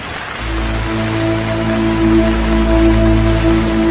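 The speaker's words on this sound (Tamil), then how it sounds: "இப்படி மழை பெய்யுதே" Heavy rain falling steadily, a dense, loud hiss that starts just after a brief quiet moment and continues evenly, with a low tonal hum beneath it.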